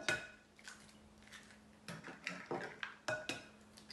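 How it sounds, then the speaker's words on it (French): Eggs cracked one after another into a salad bowl for a mushroom and cheese omelette, a quick series of sharp, close taps and clinks against the bowl with faint wet drops, over a low steady hum. "Alors voilà, dans un saladier, je casse 5 œufs."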